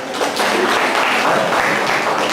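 An audience at a medical lecture on opium claps together in a dense, steady burst of applause that holds at an even level throughout, with no voices over it.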